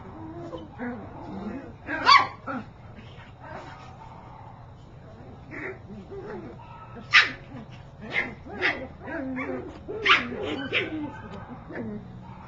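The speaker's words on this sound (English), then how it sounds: "The big dogs are barking at the neighbor on the bike that just rode down the alley." Big dogs bark in scattered bursts at a cyclist passing down an alley beside a carport, with a few sharp, loud yelps standing out over lighter yips and whimpers from young puppies nearby, and people talking throughout.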